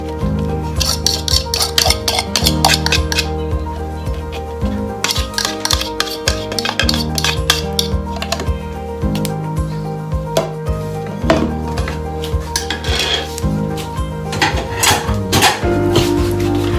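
Mashed banana is stirred into cake batter with brown sugar, making a busy run of repeated knocking and scraping clatters of a utensil against a bowl, loud and close, with no talking.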